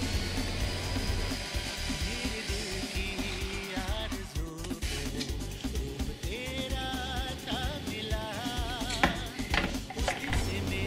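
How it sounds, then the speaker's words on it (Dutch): A kitchen blender whirs steadily through a batch of mint and cilantro for an Indian mint sauce, a continuous close, fairly loud motor drone with shifting pitch as the herbs break down. "Blender alles."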